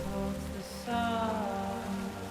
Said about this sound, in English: it's just timefall. It's not BTs. I see no BTs. It's just rain.